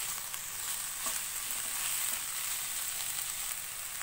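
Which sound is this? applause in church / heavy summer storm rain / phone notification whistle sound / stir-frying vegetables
stir-frying vegetables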